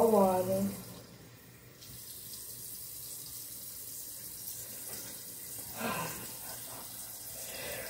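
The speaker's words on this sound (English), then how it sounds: "Hot water." Hot water running from a household tap into a sink, a steady broadband hiss at moderate level that briefly drops and then continues, with a voice heard faintly at the start.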